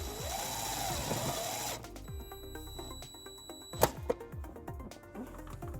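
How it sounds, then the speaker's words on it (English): Power driver running a self-tapping screw behind the taillight of a 2014 Kia Soul to ground trailer wiring: rapid whirring and clicking bursts with a sharp tick near the end. "we're going to ground it behind our taillight using the provided self-tapping screw"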